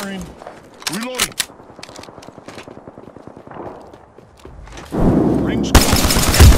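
Rapid automatic gunfire in Apex Legends rattles out in a steady burst of shots, with game voice lines and scattered effects around it, ending in a louder, noisy stretch of combat.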